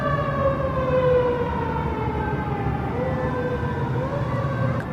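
An emergency siren wails loudly and steadily close by, its tone sliding in slow sweeps, with no talk over it.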